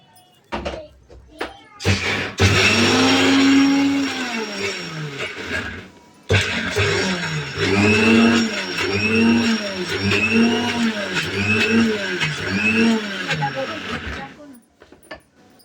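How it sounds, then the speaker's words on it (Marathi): A mixer grinder whirs loudly, grinding chillies, cumin and garlic, starting and stopping with a brief pause, its motor pitch pulsing in a regular rhythm; a voice briefly talks in between. "आणि हे पण आपण असं मिश्रण बारीक दळून घेणार आहोत."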